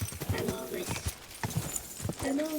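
A horse's hooves clip-clop in a steady, brisk rhythm across ground in the video game Kingdom Come: Deliverance 2, each hoof strike distinct and close, with soft ambient noise and faint talk underneath.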